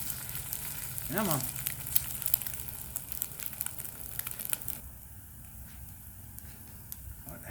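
An egg frying in a pan at an outdoor camp cooking setup, a soft steady sizzle with crackles and a short spoken phrase early on, fading quieter toward the end.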